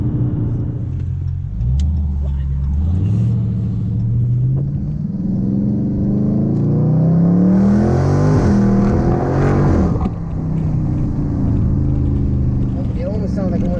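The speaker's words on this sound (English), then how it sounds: "This is one of the best sounding V8s I've ever driven" A 2019 Dodge Charger Scat Pack V8 rumbles and climbs through loud revs from inside the car, the engine note rising and falling steadily under people talking over it.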